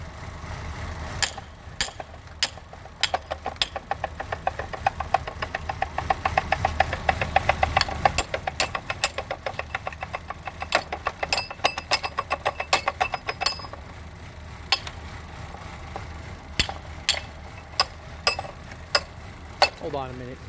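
A Chevy Cobalt engine being abused in neutral until it seizes, running with a rough, rattling knock and revving in surges under a steady mechanical clatter.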